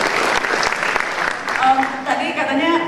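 An audience at a talk show on tax and anti-corruption claps, a fairly loud patter of applause that fades while voices and other tones rise toward the end.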